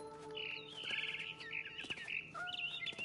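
Barn swallow outside a window by its nest, giving a lively run of rapid, warbling high chirps and twitters that rise and fall continuously for a few seconds, fairly close over a low steady hum.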